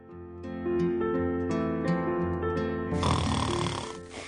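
A person snoring near an anti-snore pillow, one drawn-out harmonic rumble with a raspier, noisier tail, moderately loud and heard alone.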